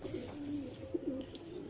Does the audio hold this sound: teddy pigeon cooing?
yes